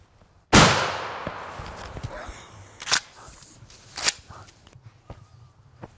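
A single loud close shotgun blast fired at a turkey during a hunt outdoors, followed by a long fading echo, then a few sharp clicks and rustles in the quiet afterward.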